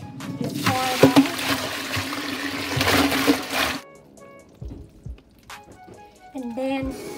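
Salted soaking water poured off live crawfish in a kitchen, a gushing splash for nearly four seconds, followed by quieter drips and trickles, with someone speaking briefly.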